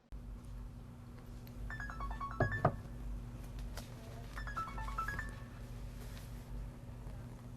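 A telephone rings during a simulated doctor's phone call: two short bursts of warbling electronic ring tones, a few seconds apart, rise faintly over a steady low hum.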